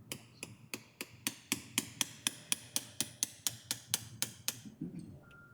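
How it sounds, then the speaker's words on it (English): A surgical mallet drives a fixation implant with an interference fit during complex trauma surgery, giving about sixteen sharp, evenly spaced metallic taps close up, then stopping. "At this point, do you still use the hammer? Or do you... Yeah, mallet, yeah."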